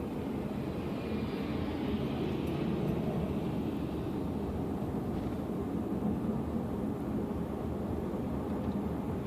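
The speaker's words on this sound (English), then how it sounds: "there's an airplane" Steady low roar of an airplane flying overhead, a continuous engine drone that holds at an even level with no talking.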